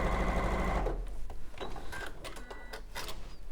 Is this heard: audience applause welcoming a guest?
no